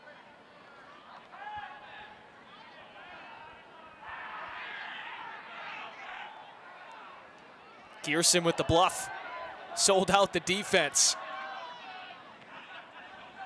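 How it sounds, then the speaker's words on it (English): UNH Wildcats fans at Wildcat Stadium cheer during a men's soccer match against UMBC. Two loud bursts of crowd roar surge midway and then drop back to a murmur, with play-by-play commentators talking throughout. "Got some cheers out of the Wildcats fans."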